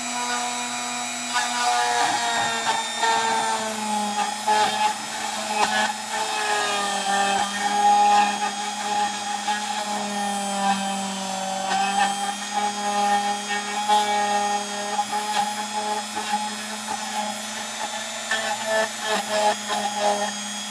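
Rotary tool with a two-flute bit grinding into a plastic Game Boy Advance shell, a loud steady whine with a shifting pitch as the cut is worked, no talk.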